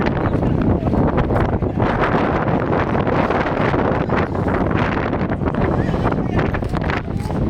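Strong wind roars across an open stretch of waterside, a dense, constant buffeting rush that fills the whole clip with steady gusting force and no pauses.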